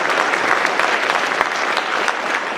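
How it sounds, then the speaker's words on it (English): A crowd at a fall sports awards gathering gives a loud, dense, steady round of applause for the cross-country coach, sustained through the whole moment. "you can give him a round of applause"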